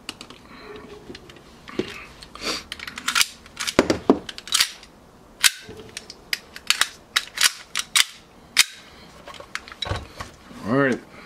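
An EMG Hudson airsoft pistol fires a series of sharp, loud cracks at irregular intervals, mixed with clicks and handling noises, while a person talks in between.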